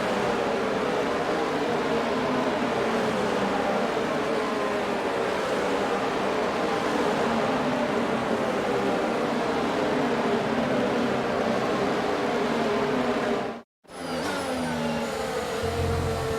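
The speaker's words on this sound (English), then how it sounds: "The formation lap is underway." Formula 1 cars on a wet-track formation lap in the F1 22 video game, a continuous droning engine note with rising and falling revs, steady and loud, briefly cutting out near the end before resuming.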